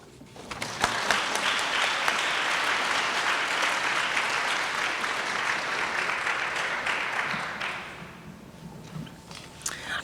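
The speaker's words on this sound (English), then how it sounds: "let's give one more round of applause to both of our honorees this morning" Audience applause for honorees at a leadership breakfast, loud and sustained for about seven seconds, then tapering off into scattered claps.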